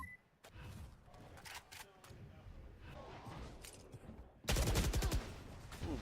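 Rapid Valorant gunfire sprays in a high school esports match, with several sharp bursts early and a dense, loud volley near the end, layered under excited commentary.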